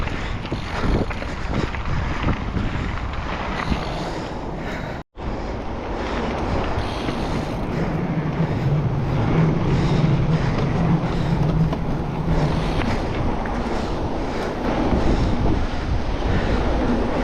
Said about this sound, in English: Trusting that the wind won't take me out.